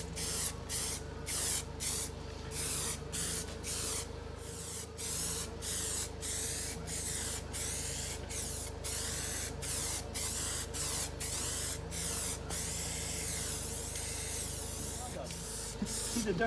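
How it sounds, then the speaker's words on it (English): Repeated bursts of aerosol primer spray hiss in an even rhythm onto the side of a stock car, close and loud, each short blast separated by brief pauses. "so we'll go spray this side"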